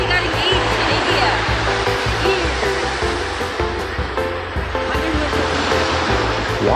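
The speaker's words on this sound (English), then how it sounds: "Walking to the end of Mobor Beach" Surf rolls in steadily on Mobor Beach in Goa, India, a continuous broadband roar of breaking waves with faint voices and background activity mixed in.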